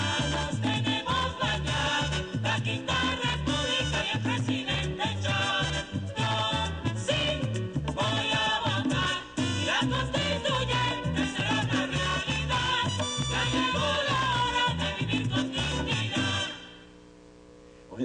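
A full-band song plays back from a CD, dense and continuous with steady rhythm and layered instruments for most of the span, then cuts off abruptly near the end.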